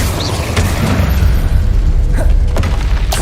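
Incendio fire spell blast in Hogwarts Legacy: a loud, continuous booming roar of flame with a heavy low rumble and a few brief crackles throughout.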